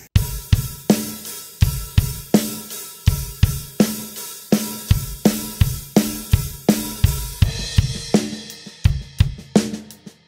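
A drum kit plays a groove with a steady driving kick and snare backbeat, cymbals washing over the top and a fill near the end, loud and close, with no voices.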